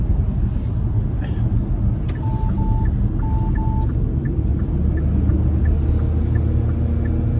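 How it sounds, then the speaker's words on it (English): Garbage truck on the road heard from inside a moving car, a steady loud engine rumble throughout with a series of short repeated beeps in the middle, and voices talking over it. "Okay, finally got by the garbage truck."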